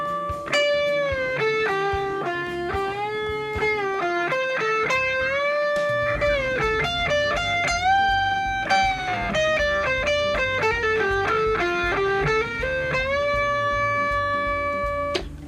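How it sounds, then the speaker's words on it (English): Distorted electric guitar with D'Addario Chromes flatwound strings playing a melodic line with sustained, bending notes, loud and continuous with no talking. "I threw on some distortion just to test something else."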